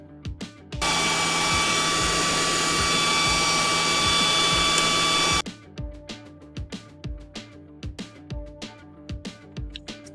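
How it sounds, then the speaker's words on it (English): A budget PCP air compressor for charging air rifles runs with a loud, steady whine and hiss for several seconds, then stops, followed by a string of rhythmic clicks and knocks. "I'm going to switch over to the other compressor."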